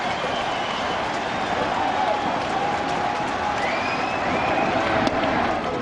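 Baseball stadium crowd at a Mets vs Nationals game, a broad roar of cheering and clapping that stays steady and fairly loud throughout, with some indistinct voices mixed in.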